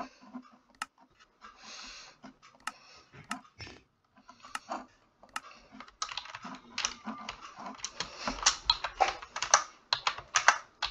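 Rapid clicking of computer keyboard keys, sparse and intermittent at first, then denser and louder typing bursts in the second half, close up with no voices.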